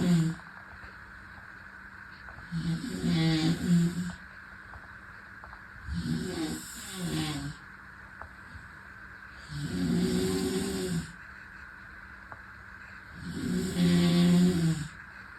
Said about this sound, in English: Began to snore throughout the night.